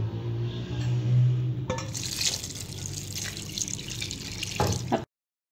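A mug of water splashes and trickles into a pot of chicken, tomatoes, green chillies and spices nearby, a steady pour with a faint hum underneath, then stops abruptly.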